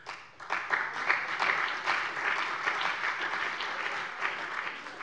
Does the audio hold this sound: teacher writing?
no